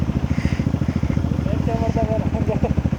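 A Hero Xpulse 200 motorcycle on a trail ride near Hosahalli Betta outside Bangalore gives a rapid, low, even exhaust thump. It is close and loud, with someone talking over it partway through.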